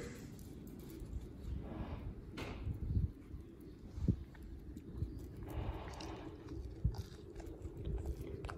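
Someone eats a soft, buttery, crisp cinnamon roll pastry at close range, with faint irregular chewing and crunching noises and small mouth clicks over a low background hum.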